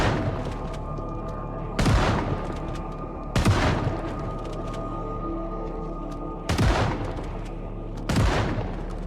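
Gunfire in the zombie survival game Project Zomboid: four heavy, booming shots spaced a second or more apart, each ringing out over a steady background drone.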